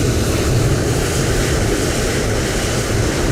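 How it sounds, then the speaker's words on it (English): Steady, loud roar of an aircraft taking off at Hulhumale in a flight simulator game, a dense continuous engine rush holding evenly throughout with no voices. "You can see this aircraft is taking off."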